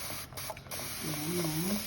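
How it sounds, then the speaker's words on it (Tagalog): A short hiss of alcohol being sprayed onto a white school uniform, close and soft, followed by a faint squeak. "Spray mo lang yung alcohol saan."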